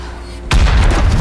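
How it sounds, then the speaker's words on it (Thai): An explosive charge detonates in a tunnel in World War Z, a single sudden loud boom that cuts in after near-silence and rolls on as a heavy, sustained rumble. "ระเบิดไปแล้วหนึ่งจุดจ้า"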